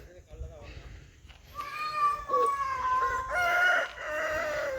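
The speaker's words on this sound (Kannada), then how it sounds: "ಅಲ್ಲೊಂದಿದೆ ನೋಡಿ ದೊಡ್ಡ ಹುಂಜ." A large rooster at a village farm crows loudly and drawn-out close by, following a few softer clucks, with a person talking around it.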